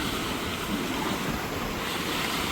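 Floodwater from submerged fields rushes past a bridge, a steady, loud, broadband roar of churning water with no break or voices.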